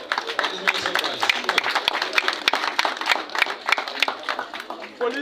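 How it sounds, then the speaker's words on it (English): A crowd at an Olympic Day 2024 celebration gives a round of applause: a steady, fairly thin patter of claps that runs throughout, mixed with voices talking and calling out. "And we need another round of applause, please."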